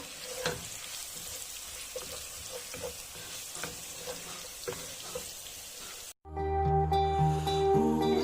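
Garlic and onions frying in a pot for Swahili pilau, a soft steady sizzle with scattered clicks and stirring scrapes, then an abrupt cut to a louder, tonal clatter at the end.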